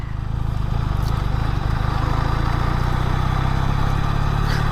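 A QJ SRK400 motorcycle engine lugging at low speed in third gear, a steady close mid-pitched drone with a fast even pulse that holds constant throughout, with no speech over it.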